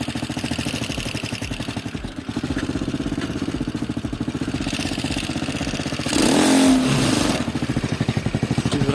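A homemade quad bike engine chugs at a steady, rhythmic idle, then starts in gear and revs in a louder, rougher surge for about a second before dropping back to the even beat.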